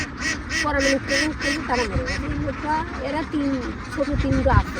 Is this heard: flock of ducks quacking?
yes